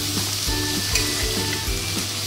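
Tomato dropped into hot oil in a pan while cooking a Bengali meat curry: a loud, continuous hiss with rhythmic stirring thumps about every half second, close up and with no voices.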